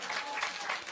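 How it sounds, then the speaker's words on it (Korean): Steady applause from a studio audience at a live public broadcast of a Korean political talk show, a continuous wash of clapping at moderate volume. "박수 치실 일은 아닙니다."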